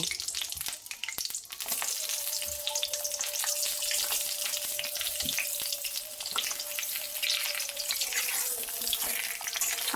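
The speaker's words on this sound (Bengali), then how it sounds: "এবারে পটলগুলো সুন্দর করে ভেজে নেব।" Pieces of pointed gourd (potol) fry in mustard oil in a pan, making a steady, dense sizzle and hiss with a few clinks of utensils at the start.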